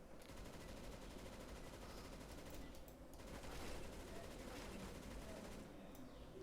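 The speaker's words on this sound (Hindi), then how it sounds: "क्या मशीन गन है" Sustained gunfire from a Counter-Strike match, a steady dense wash of shots that runs the whole time with slight swells, loud and close with no talk over it.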